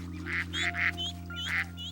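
A cartoon duckling gives a few short, bright nasal quacks in quick succession, close and clear over a steady low hum, with no talking.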